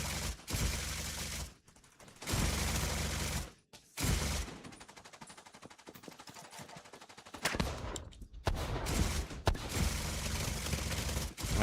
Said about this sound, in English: Is that a fucking LMG?